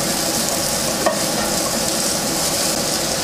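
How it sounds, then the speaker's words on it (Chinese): Luffa is stir-fried in leftover shrimp oil in a wok, giving a loud, continuous hissing sizzle heard close up, with a brief clack of a utensil near the middle and no speech. "锅中留着刚刚炒虾的虾油，倒入丝瓜，把丝瓜翻炒均匀"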